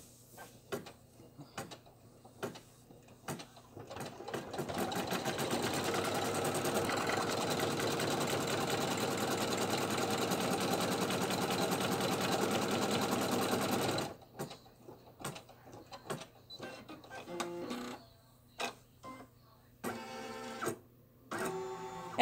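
An embroidery machine stitching the headband placement lines on a bow, with a few stop-start clicks before a loud, steady mechanical whir of rapid stitching that runs about nine seconds, followed by scattered clicks and brief bursts.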